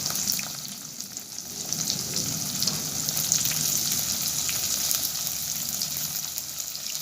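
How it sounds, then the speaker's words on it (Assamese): Chopped tomatoes and potatoes fry in a pan, giving a loud, continuous sizzling hiss with occasional stirring scrapes and no speech. "বিলাহী আৰু আলুখিনি এনেকৈ ভাজি ল'ব লৈছোঁ।"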